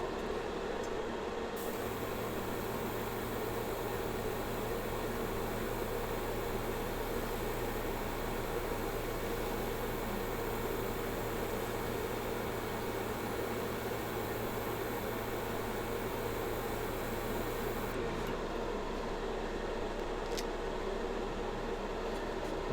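An airbrush sprays paint onto a sunflower bowl, giving a steady, faint airy hiss that runs without a break with no talking.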